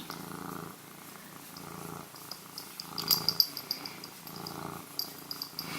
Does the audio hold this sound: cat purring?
yes